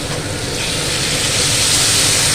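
Hot water poured into a pan of frying cut potatoes for a Bengali posto dish, a steady loud hiss and sizzle rising slightly and filling the whole stretch without any talk.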